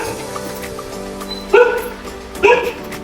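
Dogs bark at night in a lane beside a biryani stall, two sharp yapping barks close by over a low background hum and faint voices.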